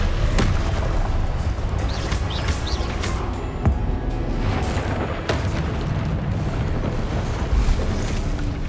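A Confringo blast spell in Hogwarts Legacy sets off loud, continuous booming and roaring explosions that fill the whole stretch with dense rumble and crackle, with no voices.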